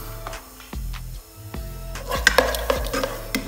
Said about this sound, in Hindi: ऑयल जब गर्म होगा तो इसमें थोड़ा सा डालेंगे जिंजर और गार्लिक का पेस्ट और उसको करेंगे हल्का सा फ्राई।